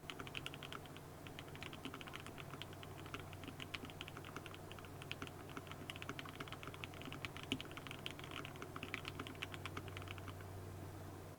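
Fast, steady typing on a mechanical keyboard fitted with Alpaca switches, a carbon fiber plate and GMK Olivia keycaps, producing a quiet, continuous stream of close key clacks with no talking.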